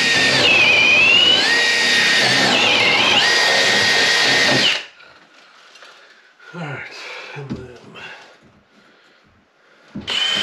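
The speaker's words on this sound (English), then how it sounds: "Going to be a lot of drilling" A power drill runs loud and continuous for about five seconds while electrical wiring is put into an off-grid cabin, then stops, leaving quieter handling noises and a few brief thumps.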